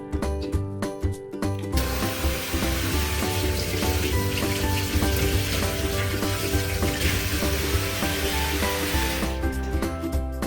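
Running tap water splashes steadily over two beetroots as they are washed by hand in a kitchen sink, a loud, continuous close rush with rubbing and handling noises mixed in.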